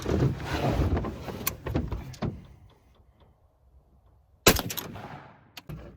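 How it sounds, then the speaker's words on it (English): A .308 AR-10 rifle with a 24-inch barrel fires at a Level 4 armor plate, giving a loud, sharp outdoor report with a trailing echo. The shot lands mid-clip after a quieter stretch, and several softer clicks and taps follow it. "Now we're going to hit it with a 24-inch barreled 308 out of this AR-10."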